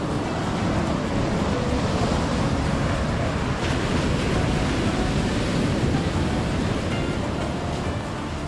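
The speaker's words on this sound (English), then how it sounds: "the waves were too big" Big ocean waves roar steadily at Batu Bolong beach in Bali, a loud, continuous wash of surf with wind buffeting the microphone and no voices.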